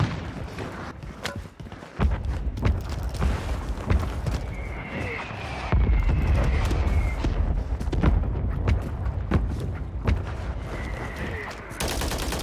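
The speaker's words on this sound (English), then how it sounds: "Friendly mortar strike inbound." Friendly mortar strike in Call of Duty Warzone on Rebirth Island: heavy booming impacts land amid dense, rapid bursts of automatic gunfire, loud and close, with a voice talking over parts of it.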